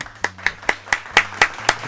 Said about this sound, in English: So can we give that a round of applause though?